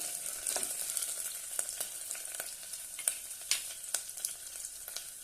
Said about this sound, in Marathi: दोन तेजपत्ते घालूया दालचिनीचे दोन तुकडे घालूया आणि छानपैकी परतून घेऊया